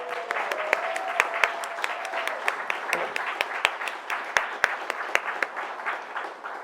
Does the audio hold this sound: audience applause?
yes